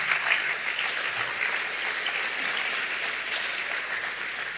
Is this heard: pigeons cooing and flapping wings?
no